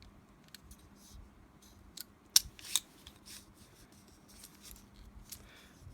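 Circle cutter blade being spun around to cut a circle: faint, scattered scraping clicks and a few sharper ticks over a quiet background hum, close and without talk.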